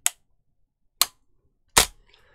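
An air rifle fires three sharp, loud cracks spaced about a second apart, each ending abruptly in near silence, the last one with a short faint clatter after it.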